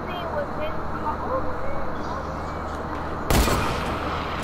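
A sniper rifle shot in Fortnite, one sharp loud crack near the end that stands out over steady background noise, with people talking throughout.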